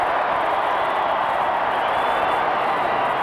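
A large crowd at a 1994 AFL Australian football match between Essendon and West Coast roars in a dense, loud, continuous wash of cheering with no break.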